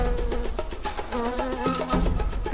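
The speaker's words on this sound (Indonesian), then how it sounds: "itulah saat lebah-lebah siap menyerang" Angry bees swarming around a hive being smoked high up, a dense buzzing drone of many insects close to the microphone, wavering constantly for a few seconds with no voices.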